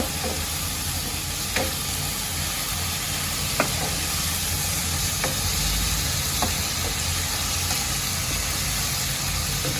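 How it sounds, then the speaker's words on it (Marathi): Spices frying in oil in a pan for Khandeshi brinjal bharit make a continuous loud sizzle, punctuated every second or two by faint clicks of a spoon stirring. "आता मसाल्यांना पण ह्याच्याबरोबर तेलामध्ये चांगला परतून घेते एक ते दीड मिनिटापर्यंत"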